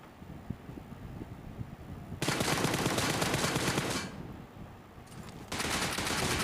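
Automatic gunfire in PUBG on the Erangel map rattles out in two long, dense bursts, the first lasting almost two seconds and the second starting near the end, with quieter game ambience in between.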